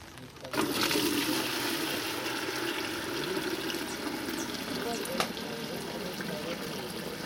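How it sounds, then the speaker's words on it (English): Water draining from a basin down a plug hole on the equator, a steady gurgling rush that starts abruptly and runs continuously, fairly faint. "you have to do the water down the plug hole experiment"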